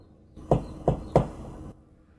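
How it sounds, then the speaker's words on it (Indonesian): Someone knocks on a door from outside at night: three evenly spaced, fairly loud thumps with a faint background hum and no voices. "tiba-tiba terdengar suara ketukan dari luar"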